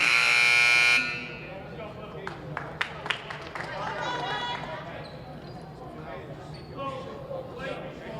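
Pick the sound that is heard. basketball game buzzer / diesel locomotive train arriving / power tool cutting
basketball game buzzer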